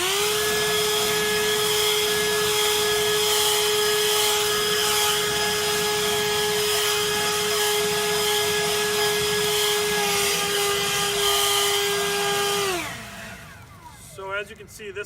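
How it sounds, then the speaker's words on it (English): A Worx WG507 cordless leaf blower running on its lowest setting gives a steady, loud motor whine with a constant pitch for about twelve seconds, then spins down and stops, leaving faint handling noise near the end. "this is a pretty serious leaf blower, especially with cordless technology"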